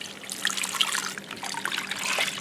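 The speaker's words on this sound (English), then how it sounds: "Okay, I'm going to add water." Water pours into a crock pot slow cooker with a steady splashing trickle and bright bubbling gurgles, close and moderately loud, no voices.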